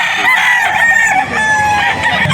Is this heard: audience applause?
no